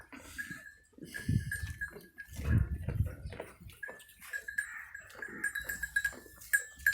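Sheep of the Mundra breed from Rajanpur, kept in a farm pen, bleat in several drawn-out nasal calls at close range, some louder than others, over a background of faint animal shuffling and a steady high whine.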